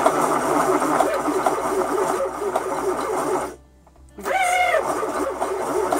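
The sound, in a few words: Weaver YW-100 electric yarn winder running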